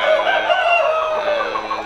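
A busy chorus of chickens clucking with roosters crowing on a Go Cong farm, close and loud, overlapping calls filling the short stretch without talk.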